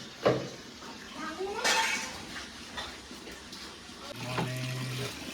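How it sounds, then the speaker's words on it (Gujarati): Tap water pours and splashes into a container indoors, with a steady low drumming rising near the end, joined by brief clinks and faint background voices. "જો આપણે પાણી આવી ગયું ગાઈસ"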